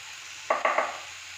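A few quick scrapes as broccoli is stirred in a frying pan, three short strokes over a faint low background hiss, close and brief with no voices.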